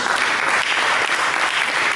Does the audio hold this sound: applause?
yes